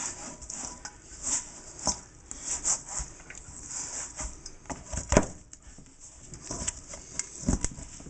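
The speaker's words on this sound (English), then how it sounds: "And I'm going to have to knead this for a while." Sticky bread dough for lemon pepper almond bread being kneaded by hand on a work surface, with repeated soft rubbing, slapping and squelching strokes at an irregular rhythm, close and fairly quiet.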